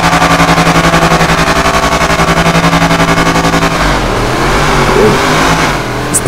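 A car engine in the GTA video game revs hard with a pulsing, throbbing idle, then shifts into a deeper, rougher growl as it accelerates, loud and up close with no talk.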